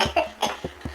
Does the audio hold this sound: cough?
yes